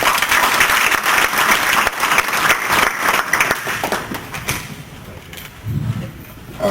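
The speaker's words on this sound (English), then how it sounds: "I want to give you all a round of applause for coming up to Tulsa and to Oklahoma City" Audience applause at a 1 Million Cups startup gathering in Oklahoma City, loud and sustained from a close crowd, thinning toward the end with a brief low murmur.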